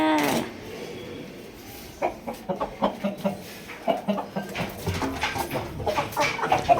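Chickens cluck in a quick irregular series of short calls, fairly close, with a rooster among the fowl and occasional farmyard background noise.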